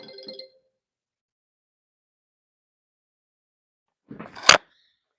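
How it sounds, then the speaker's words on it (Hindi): A phone ringtone chirps briefly at the start on a quiet electronics workbench where an Ahuja UBA 800 amplifier is being built, then silence follows until a sharp, loud clatter near the end. "फ़ोन आ गया फिर से।"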